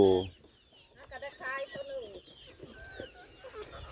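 Chickens at a Thai market cluck and squawk in short, close bursts while someone talks over them in Thai, counting.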